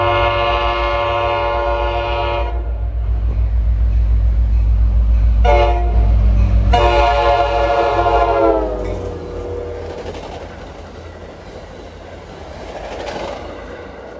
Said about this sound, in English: here comes the first of the Port Jervis fleet. Train 51, Hoboken to Port Jervis.